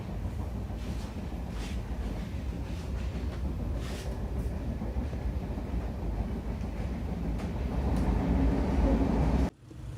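Steady low rumble inside a moving train carriage travelling from Mumbai to Goa, with faint rhythmic clatter and a constant roar that cuts off abruptly near the end.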